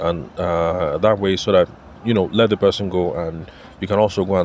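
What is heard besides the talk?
None of the usual background noises is heard.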